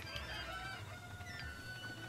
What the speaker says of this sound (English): Hey, there's another chicken over there.